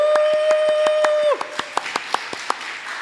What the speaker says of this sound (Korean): 박수로 한번 맞아주세요